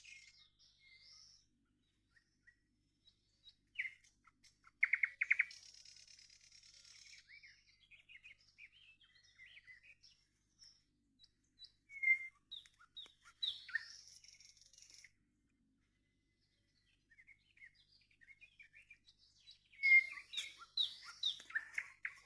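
A nightingale sings at dawn on an early June morning, sparse bright chirps and trills in separate phrases with quiet gaps, faint and somewhat distant in an otherwise still setting.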